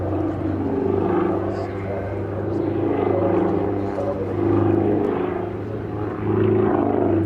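An aerobatic display aircraft flies slowly at the Farnborough air show, its engine drone rising and falling in waves as it maneuvers, heard under a commentator's voice.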